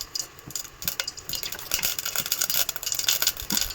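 Mustard seeds frying in a few spoons of hot oil for a fish gravy tempering, with steady crackling pops and sharp spits over a continuous sizzle, close and fairly loud, with no voices.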